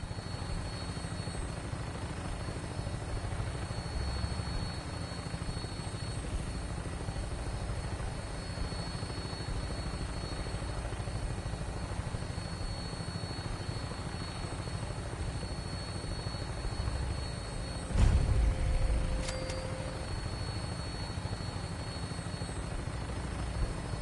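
Vertibird aircraft from Fallout 4 on final approach to an airport, a steady droning rotor and engine roar that holds evenly throughout, with a brief louder mechanical clatter near the end.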